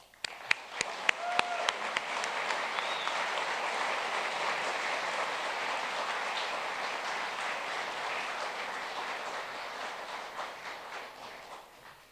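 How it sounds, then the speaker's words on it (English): An audience welcomes the keynote speaker at an astronomy gathering with warm applause. A few distinct claps open it, then it swells into a full, sustained ovation that holds steady and tapers slightly at the end. "let's give a warm applause to our keynote speaker"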